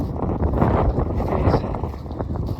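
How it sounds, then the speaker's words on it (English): Strong wind buffets the microphone at a glacier, a dense, continuous roar with gusty surges throughout. "You can hear that wind."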